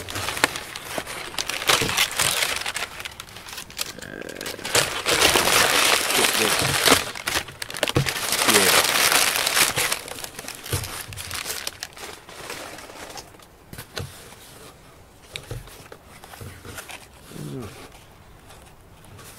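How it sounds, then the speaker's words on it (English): Packing paper crumples and rustles loudly and continuously while a mail-order board game box is unpacked indoors, with a voice talking over parts of it and soft bird coos in the background. "a lot of packing paper"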